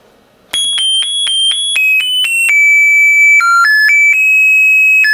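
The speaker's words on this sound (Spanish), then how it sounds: "Ese sería el timbre electrónico de una sola melodía" Electronic doorbell chip running on 6 volts playing a single melody: a loud, clean sequence of bright beeping tones, first in quick separate notes and then held longer, with nothing else audible.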